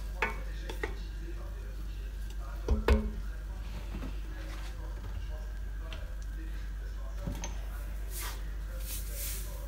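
Ingredients for a quick couscous are tipped into a cocotte and stirred, with scraping and light sizzling over a low steady hum, a couple of clunks of utensils against the pot, and someone talking over it.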